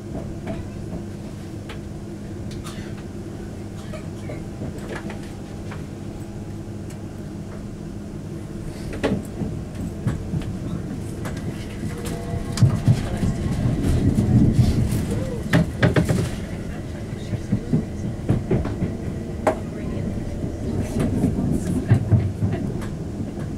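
A TransPennine Express class 350 electric train runs on the fast line from Manchester Piccadilly toward Preston, heard from inside as a steady rumble with rattles, clunks and rail clatter that grow louder midway.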